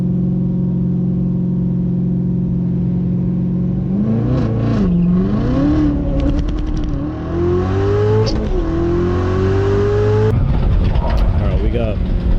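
A Corvette ZR1 racing a GT3 at a drag event, its engine droning loudly, then revving up through rising pulls with brief breaks between gears, close and powerful.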